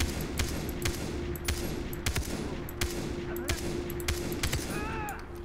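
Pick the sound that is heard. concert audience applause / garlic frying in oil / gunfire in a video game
gunfire in a video game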